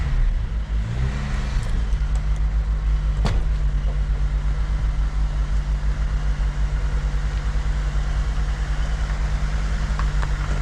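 A 1992 Vauxhall Cavalier Diplomat with a carburettor engine idles steadily and close by, a low, even hum with a brief blip of revs near the start and no talk.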